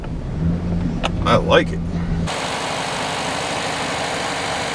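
An old $500 truck with a slightly worn engine idles and drives, a steady low rumble under a short remark from a man, then a sudden shift to a louder, broadband road and engine roar that runs steadily to the end.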